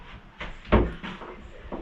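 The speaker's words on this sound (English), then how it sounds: "I'll shut the door." A door in an old house with a traditional range is pushed shut, giving one solid, close thump after some soft shuffling, with faint handling noises following.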